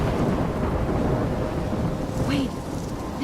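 Thunderstorm in the video game Life is Strange: dense, steady rain with a low rolling rumble of thunder throughout, loud and continuous.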